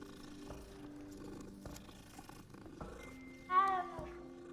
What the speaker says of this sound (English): What's up with all those cats?